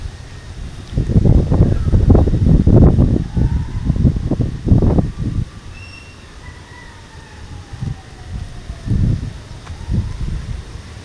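Strong gusts of wind in the aftermath of Typhoon Uwan roar in loud, surging bursts near the microphone, easing midway before swelling again in shorter rushes, with a faint bird call or two high above.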